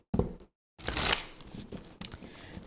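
Close-up shuffling of a card deck: a brief riffle, a pause, then a longer papery flutter followed by softer sliding and tapping.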